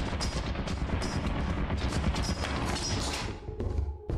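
Automated turrets fire in the video game Lethal Company, a dense, loud stream of rapid gunfire filling the clip almost without pause before easing off near the end.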